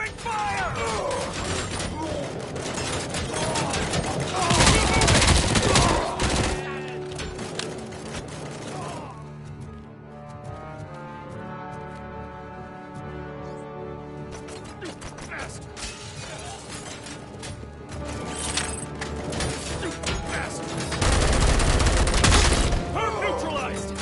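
Bursts of gunfire and mechanical clatter in the RoboCop video game, loud and sustained at the start and end, with a calmer stretch of game music and sound effects in the middle; voices call out over the action.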